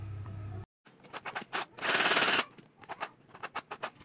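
Sewing machine stitching fabric for a cat dress, running in short rattling bursts with one longer continuous run of stitching, close and fairly loud, after a moment of hum and a brief silence.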